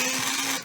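A brief whirring buzz of a pencil being sharpened for coloring, a single steady grind up close lasting under a second before tapering off.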